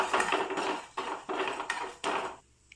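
Coriander and cumin seeds frying in a pan, with a spoon scraping and tapping the metal in a steady run of clinks and stirs, close and fairly quiet, stopping just before the end.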